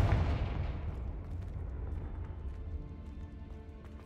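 A Confringo blasting spell cast in the video game Hogwarts Legacy gives one deep, booming explosion that rolls out and fades slowly under a low rumble.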